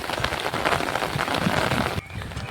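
Rain falls outdoors beside a river during a fishing trip, a close, steady pattering hiss across surfaces that drops away abruptly near the end, with faint voices underneath.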